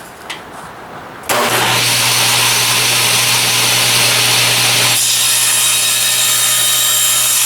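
A power saw spins up after a faint knock and cuts steadily through a wood board for a dulcimer's sides, a loud continuous whining rasp that changes pitch partway through, then keeps running alone.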